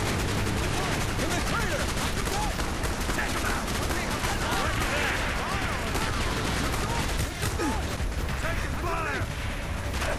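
Dense, continuous gunfire from Call of Duty: Black Ops on Veteran difficulty, with rapid overlapping shots and explosions filling the whole stretch at steady loudness, while a voice talks over it.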